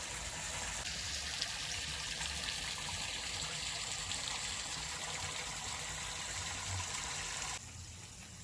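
Water pours steadily into a koi pond being refilled after cleaning, a continuous close rushing hiss that holds even and then drops to a quieter trickle near the end.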